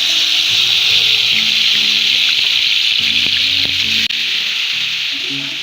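Two tablespoons of ginger garlic paste sizzle in a hot pan for a Mughlai malai pasande beef dish: a steady, fairly loud frying hiss that runs throughout, with soft low tonal sounds underneath.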